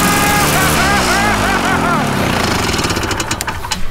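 Old snowmobile engine running, a loud close two-stroke rattle and drone with warbling pitch that settles into choppy pulsing, while a voice talks over it.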